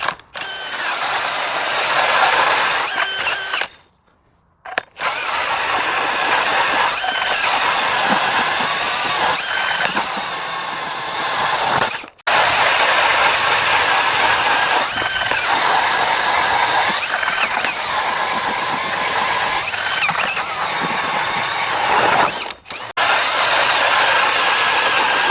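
A battery drill-powered ice auger with a K-Drill adapter bores holes in lake ice. The loud, continuous motor whine and mechanical grinding break off for three short pauses.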